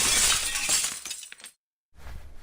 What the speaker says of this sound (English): Sorry, I broke a dish.